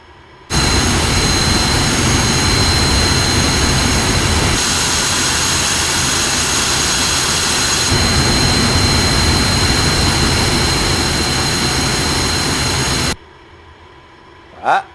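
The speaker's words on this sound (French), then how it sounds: "Voilà, on va arrêter les moteurs." Twin engines of a Northrop F-5E Tiger jet running on the ground, a loud, steady roaring whine with a high tone on top, holding for several seconds before cutting off abruptly into near silence.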